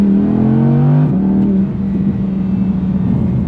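An Audi R8 V10 Performance engine revs loudly up close, its pitch rising and then settling into a steady, throaty drone.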